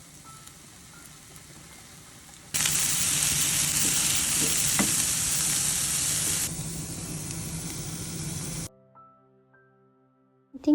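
Bitter gourd fries in oil with a loud, dense hissing sizzle that bursts in suddenly, holds steady for several seconds, then drops to a quieter crackle before cutting off.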